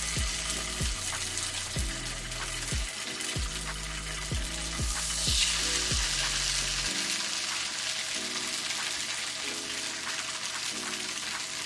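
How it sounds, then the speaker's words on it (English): Steady crackling sizzle of tofu slices frying in a hot pan, fairly close, with a series of low thumps and clatters in the first half. "I'm going to add my tofu slices and start frying them."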